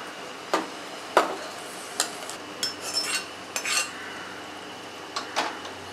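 A spoon stirring vegetables into sambar rice in a pot, producing a scattered series of sharp clinks and scrapes against the metal with quiet gaps between them, close up and with no talking.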